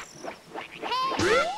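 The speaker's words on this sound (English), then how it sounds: "It's the sound of some frogs." Frog croaks from a Zelda video game play as a short series of bubbly, rising calls that end in a brighter, sweeping croak, clear and fairly close.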